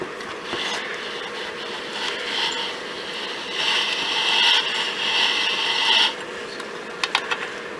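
Thin air-dry clay is rolled through a hand-cranked pasta machine, giving a steady mechanical rasping and grinding that swells in the middle, then a few small clicks near the end, with no talking.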